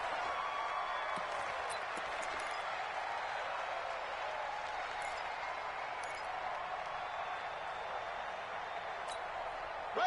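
Steady roar of a football stadium crowd in a PS4 video game, a dense, continuous wash of cheering and applause-like noise holding at an even level throughout, with no clear voices standing out.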